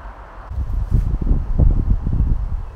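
Strong, chilly wind blows outdoors, rustling leaves and buffeting the microphone in a steady, gusting roar of low rumble and leafy hiss, with no speech.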